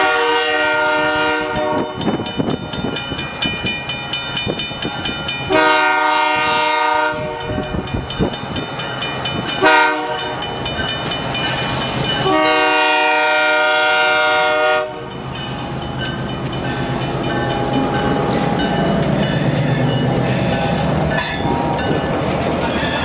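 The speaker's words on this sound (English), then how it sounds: "there's always some railroad action here." A train rolls through Flemington, its loud horn blaring in several long, sustained blasts while wheels clatter steadily over the rails close by.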